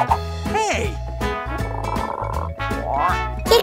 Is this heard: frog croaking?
yes